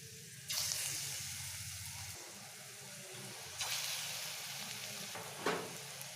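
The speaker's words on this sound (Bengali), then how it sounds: "এবার আমি এগুলোকে আস্তে আস্তে ছেড়ে ভেজে নেব" Steady sizzling of moringa-leaf fritters frying in hot oil, with a few louder hissing bursts as pieces are dropped in, close and continuous.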